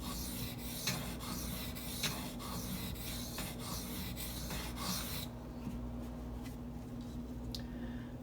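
A Spyderco Native 5 knife edge is drawn over Gritomatic silicon carbide sharpening stones in steady, close rasping strokes, each with a gritty scrape, before the strokes stop and only faint handling noise is left.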